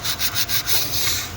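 Sandpaper rubs rhythmically against a manhole cover in quick back-and-forth strokes, a close, raspy scraping with no voices.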